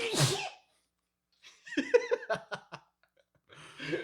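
A single sharp sneeze bursts out up close, followed after a pause by a short run of voiced, laugh-like sounds.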